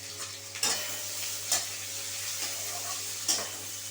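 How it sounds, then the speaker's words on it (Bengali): Carrot pieces being stirred and fried in a pan alongside sliced beetroot, with a soft steady sizzle and a few sharper scraping stirs, close and moderately quiet, no talking. "গাজরটা আমি এখানে দিয়ে দিচ্ছি"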